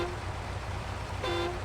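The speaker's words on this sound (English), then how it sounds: "I still love how powerful the honk is in this game." A powerful truck horn in the SnowRunner off-road driving game blares in a short, steady blast near the end over a constant low engine rumble, with a brief horn note at the very start.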